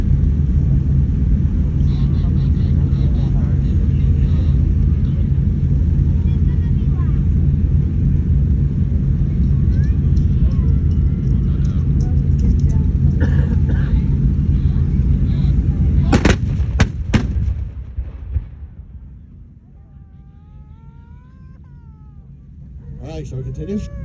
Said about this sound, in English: now we're going to shoot all the main gun and howitzers at the same time for a simul fire